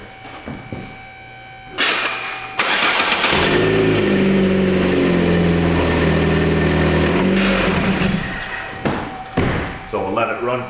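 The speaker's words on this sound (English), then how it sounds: "I'm gonna take and just start the car, let it run for just a few seconds, shut it back off." A 2012 Chevy Cruze engine cranks and catches, then idles loudly with a steady hum for several seconds before it is shut off. A voice is heard briefly around the start, and clicks follow at the end.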